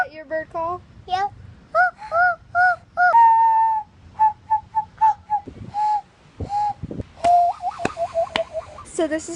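A voice mimics a bird call by mouth, with clusters of quick chirping notes, a few longer whistled tones and honk-like bursts, close and uneven in rhythm.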